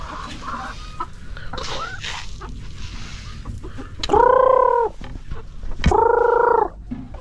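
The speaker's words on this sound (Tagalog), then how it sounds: "kumakain na sila mga kanoypi, yung mga manok natin na decaled brown" Dekalb Brown chickens eating feed, with scattered soft clucks and then two loud, drawn-out calls close by, each lasting under a second, with no talk.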